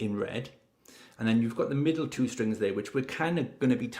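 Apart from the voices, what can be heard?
No everyday noise stands out behind the speech.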